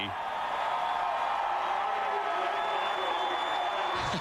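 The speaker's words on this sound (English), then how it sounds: "Listen to the crowd here at Indy." A big grandstand crowd at the Indianapolis track roars for a record-breaking NASCAR pole qualifying run, a dense, steady wash of cheering held at one level throughout, with no pause or swell.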